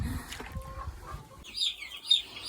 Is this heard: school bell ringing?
no